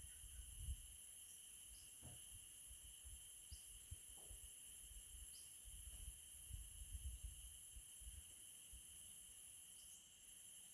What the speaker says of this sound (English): Listen to the crickets singing their songs,